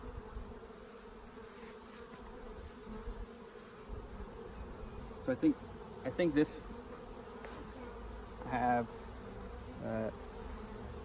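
A constant close buzz of many honey bees during a hive inspection fills the clip, with a few louder thumps and frame-handling noises and a brief spoken remark partway through.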